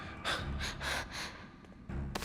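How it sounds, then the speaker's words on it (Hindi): Heavy, close breathing comes in several rhythmic gasping pulls and exhales inside a deadly tomb, with a low thud underneath. "मुझे सांसों की आवाज आ रही है।"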